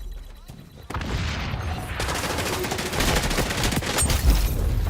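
Hip-fire gunshots in the XDefiant video game, a rapid stream of loud close shots starting abruptly after a quiet moment and continuing densely with a heavy boom near the end.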